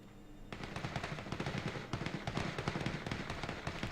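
Rapid gunfire during a PUBG squad tournament match, a dense run of sharp overlapping shots with no break, fairly close and steady in level.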